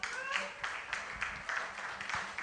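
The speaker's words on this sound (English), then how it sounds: "please, another round of applause for him" An audience at a business exhibition youth session gives a round of applause, scattered claps of moderate loudness heard from a distance, somewhat uneven and faint.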